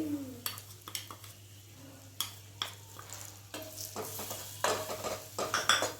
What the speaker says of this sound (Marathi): आता त्याच कढईमध्ये अजून थोडं एक च तूप घालून घेते मी आणि आपल्याला जी बेसन आहे ना ते बेसन पण आपल्याला भाजून घ्यायचं आहे ह्याच्यामध्ये